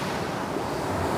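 Sea surf washing steadily onto a winter shore at Dzhemete, a continuous loud rush of waves mixed with wind buffeting the microphone, with no voices.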